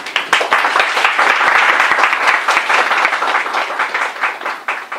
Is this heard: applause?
yes